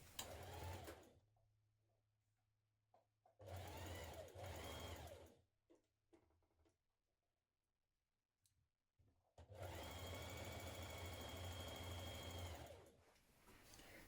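A sewing machine runs in three bursts, stitching a side seam on a nightie with a 1.5 centimetre seam allowance, a close steady whirring hum broken by short pauses of quiet handling.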